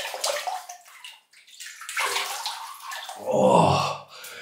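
Tap water running onto a shaving brush to wet it, a close splashing stream that breaks off briefly and then returns louder.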